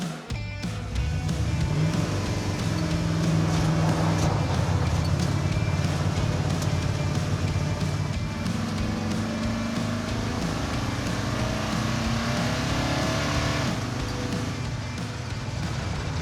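A car engine runs steadily and loudly nearby with a low droning hum, accompanied by wind buffeting and rushing noise throughout.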